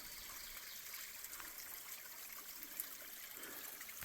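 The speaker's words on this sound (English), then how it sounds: "this comes the closest to being an actual waterfall, but it's just a trickle" A small stream trickles over a rock face beside a boulder-strewn trail at Cold Run, making a soft, steady, faint splashing wash with no voices.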